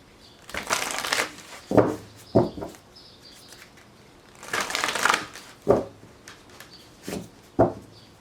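Tarot cards are riffled in several short bursts, each a quick crisp flutter. Two longer shuffles come at the start and in the middle, separated by quieter taps and pauses.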